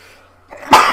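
One sharp sneeze bursts out close by after a short quiet intake of breath, loud and abrupt, indoors during a casual conversation.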